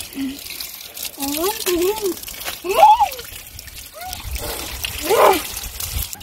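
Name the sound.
rinsing muddy children with cold water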